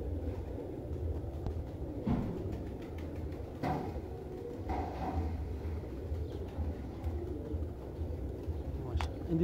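Pigeons in a pigeon-keeping loft coo softly and repeatedly over a low background hum, with faint, scattered bird sounds.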